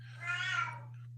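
A pet cat lets out a single drawn-out meow, close and moderately loud, rising and then trailing off over a steady low hum.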